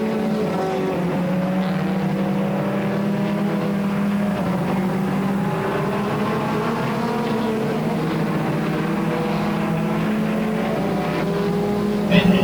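Pure stock race cars lapping Flamboro Speedway during a 25-lap feature, engines droning and rising in pitch as the field passes in a sustained roar.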